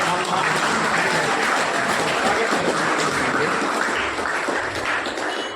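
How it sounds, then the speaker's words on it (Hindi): Loud, steady applause from an audience at a school sweater-distribution ceremony in Sujangarh, a dense, continuous wash of clapping lasting several seconds and fading slightly at the end. "आपका जोरदार तालियां बजाकर"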